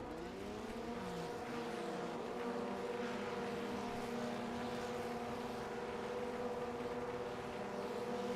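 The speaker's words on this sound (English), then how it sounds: "Let's wait for the drivers to rev their engines as we get rearing and ready to go" Several Ray FF1600 race car engines revving and droning together on the grid at Oran Park, Australia, in a racing video game, a steady layered engine tone that rises and holds, moderately loud with no talk.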